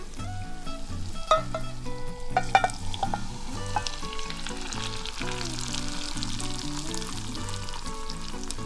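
Hot oil for Chinese chili oil poured and crackling in a heat-safe container, a steady close sizzle and fry with brief louder spatters early on, alone without talk.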